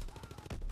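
Quiet rapid-fire bursts from an M1928 Wilco submachine gun in Call of Duty, a short string of evenly spaced shots heard at low volume.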